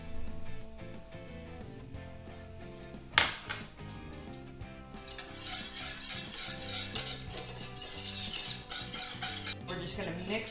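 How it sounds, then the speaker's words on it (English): Milk and flour being stirred together in a saucepan over heat, a steady run of soft scraping and clinking of a utensil against the pan, louder and busier in the second half, with no talking. "We're just going to mix this until it's well mixed."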